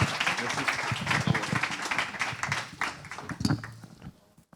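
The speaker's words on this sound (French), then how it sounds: "on peut l'applaudir fort" The audience at the Proxid'Or 2022 awards ceremony applauds in a dense burst of clapping mixed with voices, thinning out and fading toward the end.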